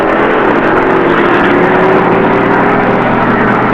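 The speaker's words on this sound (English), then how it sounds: "Dave Benisek of Hacienda Heights, California, in a 1972 Buick, was ready to take on George Hall of Pennville, Michigan, in a 71 Buick." Drag racing cars, a 1972 Buick and a 1971 Buick, at a drag strip: loud, continuous engine roar and rumble filling the whole stretch, with no voices over it.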